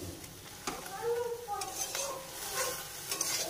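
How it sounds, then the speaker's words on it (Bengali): Bottle gourd leaf paste ground with garlic, black cumin and green chilli fries in oil in a wok, a soft close sizzle broken by repeated spatula scrapes and metal clinks. "কড়াইতে তেল দিয়ে সেটাকে এবার ভাজা ভাজা"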